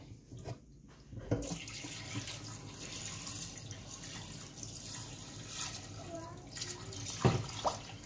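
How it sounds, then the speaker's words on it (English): Tap water runs steadily into a cooking pot for an oxtail dish, a soft continuous hiss and gurgle heard up close but faint in a quiet kitchen. "And then I'm gonna add water."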